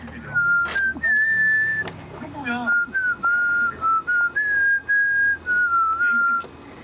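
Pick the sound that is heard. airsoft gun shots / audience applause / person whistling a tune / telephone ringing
person whistling a tune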